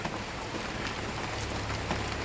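Steady rain patters and hisses on a surface, a dense even wash of drops with no voices, dripping through a leaky roof.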